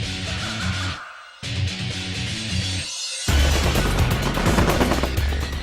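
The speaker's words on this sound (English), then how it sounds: "an opposing force firing blanks attacked a vessel." Blank rounds fired during a nighttime Coast Guard attack training exercise on a vessel, heard as dense rapid bursts of automatic gunfire that stop briefly twice, then resume in heavier, louder sustained volleys, with no one speaking.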